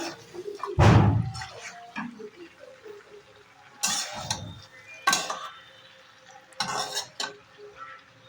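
Cauliflower and potato are turned in spiced oil in a pan, with a few loud spoon scrapes and clatters against the metal over a low background sizzle, close by.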